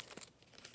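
A Pokémon Go card pack torn at by hand without scissors, a brief faint crinkle of foil wrapper.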